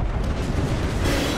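A thermite grenade burns in the Apex Legends video game, a loud, close, continuous roaring rush with a crackling, explosive texture that holds throughout the short moment.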